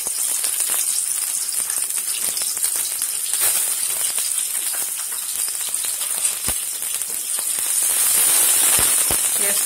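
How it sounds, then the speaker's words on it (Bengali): Sliced onions sizzle loudly after dropping into half a cup of hot oil in a heated kadai, a dense crackling hiss with sharp pops that stays steady for several seconds with no talking. "কিছু পেঁয়াজ দিচ্ছি,"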